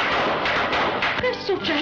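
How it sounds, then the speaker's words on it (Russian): Fireworks set off to celebrate newlyweds in a 1943 film scene: a dense run of sharp, loud crackling bangs and pops, closely overlapping, with faint whistling tones near the end. "Это фейерверк, смотри, как красиво."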